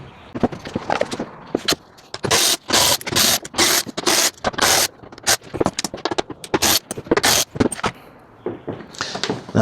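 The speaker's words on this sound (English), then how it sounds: "So I'm gonna get my right angle ratchet and take these bolts off." A right angle ratchet backs bolts off a car bumper during a front mount intake install on an N55 F-series BMW, giving close, loud bursts of rapid clicking in repeated strokes with short pauses between them.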